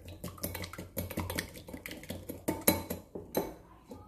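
An egg and 40 ml of milk are whisked together in a bowl, producing quick, steady clinking and tapping of utensil against the bowl, close but fairly quiet.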